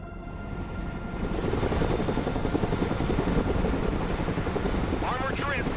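A Chinook heavy-lift helicopter flies an airlift run in the war game Broken Arrow. A dense, steady rotor thrum holds throughout, with a faint high engine tone above it, and a short radio-style effect chirps near the end.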